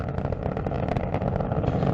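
Space Shuttle Atlantis on the STS-135 launch, its three liquid-fuel main engines roaring with a dense, crackling, continuous rumble that stays loud and steady throughout.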